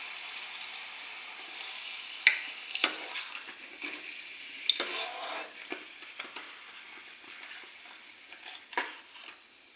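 Large papad frying in hot oil in a Maharashtrian home kitchen give a soft, crackly sizzle punctuated by sharp clicks and pops, likely from a utensil, uneven and close, fading somewhat toward the end.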